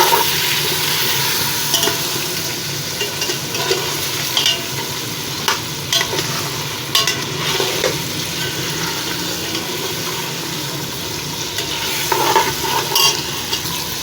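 Crushed garlic and ginger frying in oil in a pan while cooking turnip and meat curry, a continuous close sizzle broken by repeated scraping and stirring clatters from a spoon against the pan.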